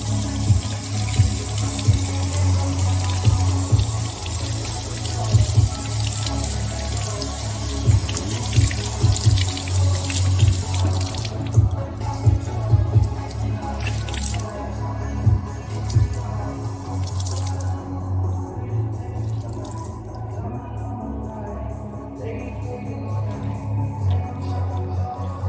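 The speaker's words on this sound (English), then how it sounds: "This one's a Challenger pad 50/50 polyester cotton. I'm gonna dampen it up over here." Warm water runs from a tap onto a 50/50 polyester-cotton Challenger cleaning pad. Steady splashing and dripping continue for a long stretch, then thin out into scattered drips and squishes.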